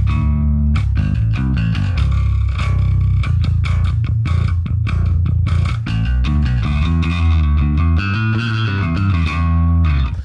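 A gritty, distorted electric bass plays a continuous modern metal/rock line through a Line 6 Helix with stock cabs, heavy low end, loud and unbroken for the whole stretch.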